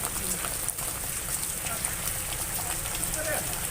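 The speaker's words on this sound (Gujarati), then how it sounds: "ત્યાં વરસાદ ધીમી ધારે પડી રહ્યો છે" Light, steady rain falls in a town street near a municipal office, a continuous soft hiss of drops pattering on surfaces, even and unbroken throughout.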